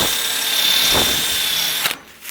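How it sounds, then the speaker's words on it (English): A drill with a 17/64 bit bores into a Ford F1 fender, a loud close whine running steadily for about two seconds before stopping abruptly. "all I'm doing is just drilling in."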